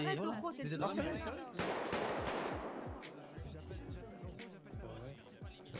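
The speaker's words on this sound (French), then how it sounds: "Je crois qu'ils font les pétards dehors" Firecrackers go off outside in rapid, sharp bursts of popping bangs, loud at first and then thinning into scattered cracks, with voices talking over them.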